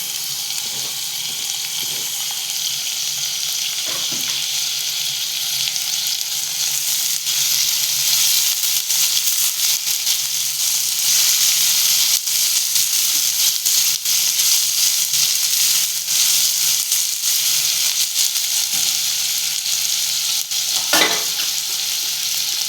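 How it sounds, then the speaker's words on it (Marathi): Large-cut tomatoes go into hot oil with curry leaves in a pan for a pea and drumstick vegetable curry. A loud, steady sizzle and crackle fills the whole stretch, with occasional stirring scrapes and knocks close by. "आता आपण त्यात टाकतोय टोमॅटो मोठं कापून घेतले"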